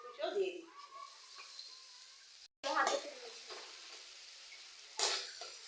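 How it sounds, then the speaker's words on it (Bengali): Spices frying with onion, garlic, ginger, green chili and tomato for homemade chops, a soft steady sizzle with scraping stirs and brief bursts, heard close with some talk over it. "এবার আমার মশলাটা ভাজা ভাজা হয়ে গেছে"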